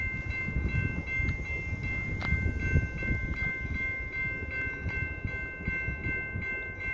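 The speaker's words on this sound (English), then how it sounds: "Here comes the Metra. Stopping at the station" A Metra commuter train rolls into a station on a winter day, a steady low rumble of wheels and cars with faint squeals and clanks throughout.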